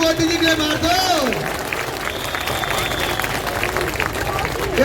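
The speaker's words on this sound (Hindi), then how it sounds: "वो एक बार जोरदार ताली मोदी जी के लिए मार दो" Rally crowd in Sarita Vihar, Delhi, at an election public meeting, applauding with a broad wash of clapping and cheering noise, while a loud voice talks over it near the start.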